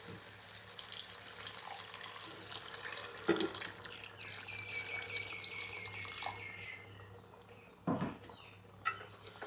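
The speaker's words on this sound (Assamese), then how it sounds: "এতিয়া ইয়াত গৰম পানী দি দিম।" Hot water pours steadily into a pot of simmering chicken gravy in a home kitchen, a soft continuous splashing with a low background hum and a couple of faint clinks.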